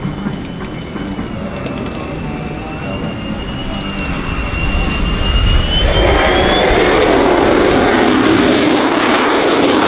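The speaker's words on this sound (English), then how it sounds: "The F-35, the JSF, brings it into the current generation, the fifth generation of fighter aircraft." Lockheed Martin F-35A fifth-generation fighter jet of the RAAF at the 2017 Avalon Airshow, a loud continuous jet roar that builds and broadens about halfway through as the aircraft passes overhead, with no talking.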